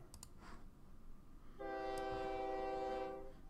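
A train in the OpenTTD video game sounds its horn in a steady, sustained tone of about a second and a half, preceded by faint game clicks over a low background hum.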